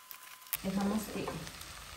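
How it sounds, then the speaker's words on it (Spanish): Corn kernels for esquites sautéing in a pan with onion and epazote, a close sizzle that starts abruptly and continues steadily, with a brief stirring scrape early on. "sofrían ahí nuestro elotito unos 5 minutitos"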